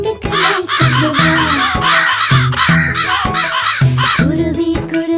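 A crow caws over and over in a quick, regular series, each harsh call loud and close, with no pause between them.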